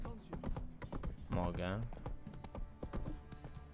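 Horse hooves clip-clop in a steady rhythm in the video game The Witcher 3: Wild Hunt, close and clear, while someone briefly speaks over them.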